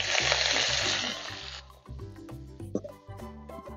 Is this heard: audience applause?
no